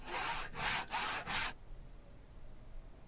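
A saw cuts through a wooden torture rack in the video game The Whispered World, four loud, rasping back-and-forth strokes in quick rhythm, then quiet.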